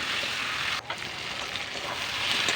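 Young jackfruit being sautéed with spices in a pan, a continuous close sizzle and fry with a brief dip where the pan is stirred.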